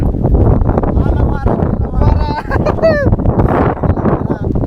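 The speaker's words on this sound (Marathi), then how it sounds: "वारा नुसता गारगार वारा।" Strong, cold wind buffets the microphone at a hilltop viewpoint in Matheran with a constant low roar while voices talk over it.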